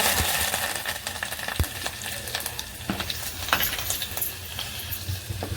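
Cumin seeds and crushed garlic tempering in hot oil, a dense, steady sizzle with scattered crackles and pops throughout, loud and close.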